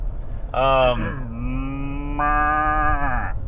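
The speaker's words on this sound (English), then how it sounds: "No, that was a cow" A cow moos twice nearby, a short low call followed by a longer, drawn-out bellow, with faint background noise.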